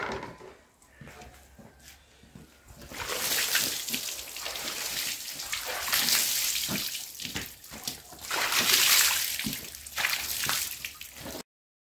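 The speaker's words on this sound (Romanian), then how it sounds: "Aruncăm un pic de apă peste el." Water splashed and poured over a slaughtered pig to wash its carcass during a traditional pig butchering in Maramureș, a steady loud rushing spatter lasting several seconds with no talk.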